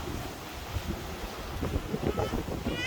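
Heavy seas churned up by Super Typhoon Karding, with steady roaring wind buffeting the microphone and waves surging and crashing nearby, growing busier toward the end.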